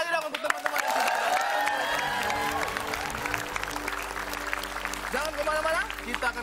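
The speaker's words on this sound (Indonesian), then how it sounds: "Tepuk tangan lagi dong untuk teman-teman yang sudah." Audience applause with scattered cheers fills the clip, steady and fairly loud, with faint voices mixed into the crowd noise.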